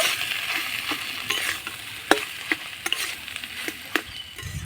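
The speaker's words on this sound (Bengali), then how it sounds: "এবার সব কিছু নাড়াচাড়া করে মশলাটা আলুর সঙ্গে ভালো করে কষিয়ে নেব" Potato pieces fry with chaat masala and garam masala in a pan: a continuous sizzle sits under sharp, intermittent spatula scrapes and taps as everything is tossed together.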